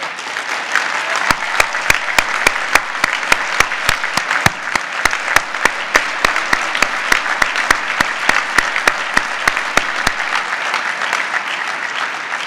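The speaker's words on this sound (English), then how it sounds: "offering a round of applause to them for their service to our nation" A steady round of applause from a dinner audience, with sharp individual claps standing out over a dense, sustained patter that holds at an even level throughout.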